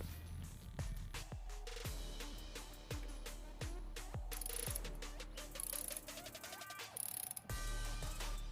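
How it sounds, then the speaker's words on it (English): A torque wrench tightens the valve cover bolts on a Saturn SL1 SOHC engine, making a series of quiet ratcheting clicks in short runs with brief metallic pauses between them, close and steady. "just go ahead and grab your torque wrench and torque them down properly"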